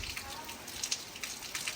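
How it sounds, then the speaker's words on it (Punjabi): Rain falls steadily on a village at around eight in the morning, starting again after stopping and starting; a soft, dense hiss with scattered faint drop ticks, fairly quiet and even throughout. "ਅੱਜ ਫਿਰ ਬਾਰਿਸ਼ ਸ਼ੁਰੂ ਹੋ ਗਈ"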